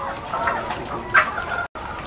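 Laying hens in a coop holding 384 birds cluck steadily, with a short, brighter call partway through and a brief drop-out near the end.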